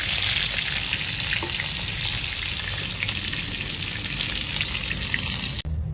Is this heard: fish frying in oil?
yes